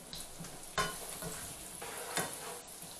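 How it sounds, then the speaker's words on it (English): Mushrooms sautéing in a pan, a steady soft sizzle and frying hiss with a couple of brief scraping stirs, close and alone without talk. "Just saute them a little bit until they soften up."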